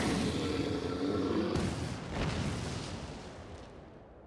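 Guns fire at a dragon in the video game Final Fantasy XIV, a heavy booming volley that cuts off abruptly and leaves a fading rumble.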